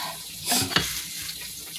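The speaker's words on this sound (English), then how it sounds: "That's what it looks like frying in the skillet." Green tomatoes sizzle and spit in a hot skillet, with a brief clatter of stirring partway through.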